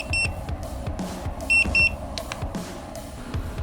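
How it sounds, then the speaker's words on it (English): A phone alarm sounds while a leg of Australian lamb smokes in a Pit Boss 850 Navigator pellet smoker, giving short, bright beeps, one near the start and a quick pair in the middle, over a muffled outdoor background. "so my phone's gone off"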